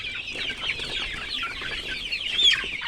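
Chickens in a coop cluck and murmur continuously in a busy, overlapping chatter, with one louder squawk near the end, heard at close range.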